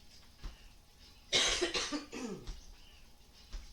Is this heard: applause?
no